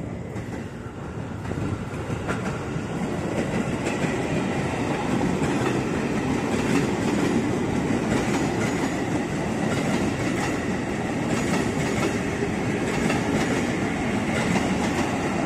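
A 12-car JR 205 series commuter train runs past a level crossing at night, its loud steady rumble and rhythmic wheel clatter filling the whole stretch, close and unbroken.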